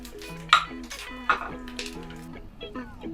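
Onion and ginger are stir-fried in oil in a claypot heated red-hot over high flame for a pork rib dish; short utensil clinks and scraping sound close by under a speaking voice.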